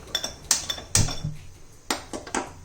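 A metal cooking pot is handled in a home kitchen, giving several close, bright clinks and knocks spread irregularly over a couple of seconds, with no talk.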